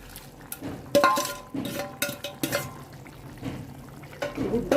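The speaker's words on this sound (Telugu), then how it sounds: "ఉడుకుతుందండి ఇవన్నీ ఉల్లిపాయలు టమాటాలన్నీ ఇప్పుడు గుడ్లును ఎండు వేసేస్తున్నాను" Onion, tomato, egg and dried prawn curry cooks in a pan, with a spoon stirring and scraping in irregular clinks and clatters over a faint sizzle, close and moderately loud.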